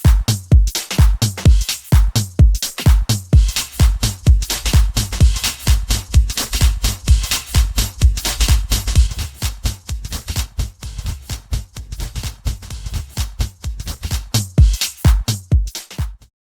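Drum loop reworked into spectral stems by Factorsynth, a dense, punchy beat with steady kick hits and crisp cymbal and hat texture running continuously and loud, with no voices.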